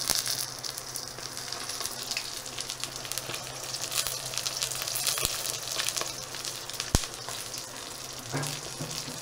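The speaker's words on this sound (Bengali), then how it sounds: "খুব সুন্দর আস্তে আস্তে ফ্রাই হচ্ছে এখানটা।" Pumpkin flower fritters fry in a pan of oil at home, giving a steady, close sizzle with soft crackles and pops running throughout and no talking.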